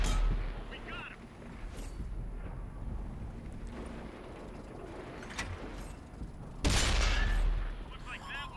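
Tank gun firing in the video game World of Tanks, a loud booming blast near the end over a constant rumbling engine and battlefield bed, with someone talking during the clip.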